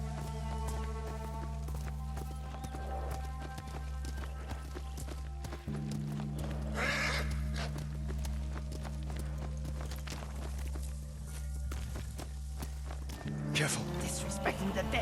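Horse hooves clip-clop at a steady running pace in the samurai action game Ghost of Tsushima, a continuous rhythmic patter set under game music and spoken dialogue.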